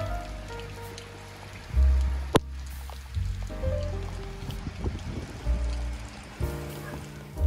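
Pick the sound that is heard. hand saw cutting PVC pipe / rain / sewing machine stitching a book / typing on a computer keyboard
rain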